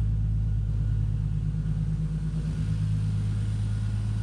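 A Toyota Supra engine fitted with bigger injectors idles steadily after its first start, a close, even low rumble that holds constant throughout with no revving and no talk.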